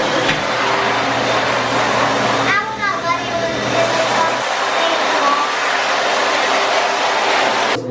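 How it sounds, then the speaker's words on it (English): A hand dryer in a public restroom blows with a steady, loud airy roar throughout, while a child and an adult talk over it nearby. "That works really good as a dryer, huh?"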